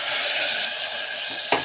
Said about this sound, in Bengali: এভাবে টমেটোগুলো আমি একটু নেড়ে দিচ্ছি